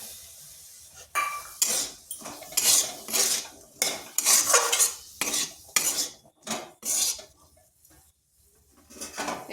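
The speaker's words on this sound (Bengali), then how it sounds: "এই আলুগুলো দিয়ে দিচ্ছি।" Small cut pieces of two medium potatoes tumble into a metal pan with a run of clattering, scraping strikes, loud and close, as they are pushed and stirred about in bursts with short pauses between.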